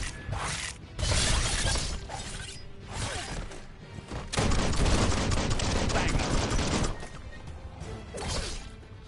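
Enemy gunfire rattles in Biomutant with dense, loud bursts of rapid shots and mechanical clatter. The bursts come in long stretches with short gaps between them.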